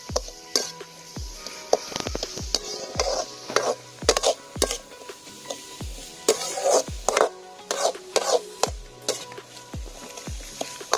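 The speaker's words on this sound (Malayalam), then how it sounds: "സബോള നന്നായിട്ട് നമുക്കൊന്ന് വഴറ്റിയെടുക്കണം" Onions being sautéed in a pan for a mushroom curry, with repeated scraping stirs and clinks of a spoon against the pan over a soft background sizzle, in an uneven rhythm.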